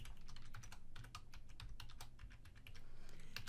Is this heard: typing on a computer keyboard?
yes